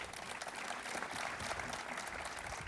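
An audience applauds at a grand opening of a memorial student center, a soft, distant, steady wash of clapping from a crowd that goes on without a break.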